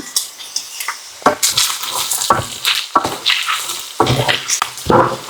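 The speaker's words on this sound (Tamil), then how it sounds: "ஒரு தீக்கரண்டி வெந்தயமும் ஒரு தீக்கரண்டி கடுகும் இருக்கு இதை நல்ல வடிவ வறுத்து போட்டு இடிச்செடுப்போம்" Fenugreek and mustard seeds dry-roasting in a pan, with irregular scraping stirs, light crackles and clinks of a spoon against the metal, fairly close and steady.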